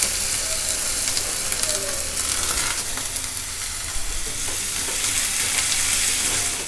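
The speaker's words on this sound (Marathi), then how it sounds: "तर बघा तेल तापलं आहे, मी आता कांदा घालते. चांगला कांदा जरा परतून घेणार आहे मी." Sliced onion frying in hot oil in a home kitchen pan, a steady close sizzle and crackle lasting throughout with no talk.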